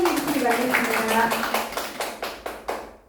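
A small audience at a university graduate seminar rehearsal applauds to welcome a speaker, with rhythmic claps that fade out, while a voice talks over the start.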